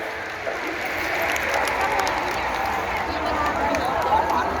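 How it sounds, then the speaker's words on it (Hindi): Loud, dense applause from a huge crowd of devotees at a Shiv Mahapuran religious discourse in Rohini, Delhi, rolling steadily throughout with an undercurrent of voices. "एक बार जोरदार तालियां।"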